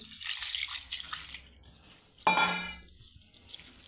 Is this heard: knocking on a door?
no